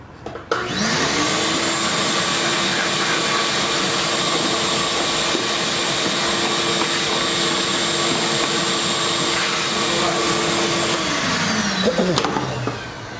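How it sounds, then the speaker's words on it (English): A vacuum cleaner runs steadily while cleaning out an abandoned 1998 Suzuki Quadrunner ATV, a loud, even whine that spins up, holds for about ten seconds, then winds down, with a few clunks at the end. "So I'm gonna run the vacuum."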